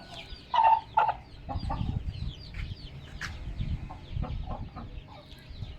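Aseel hens cluck in short, repeated bursts at close range, with a few sharper calls early on and a low farmyard rumble underneath.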